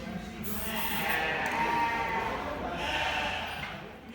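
Sheep bleat repeatedly in a paddock on a small farm being moved to new pasture, several overlapping calls at close to moderate distance over steady outdoor background, with a person's voice briefly audible.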